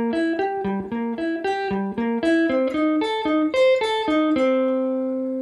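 An electric guitar plays a quick lick on the diminished scale, a run of clean, sustained single notes climbing and shifting in a steady pattern before ending on a held tone, close and alone.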